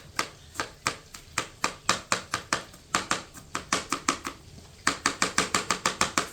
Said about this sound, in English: We're doing loud chopping.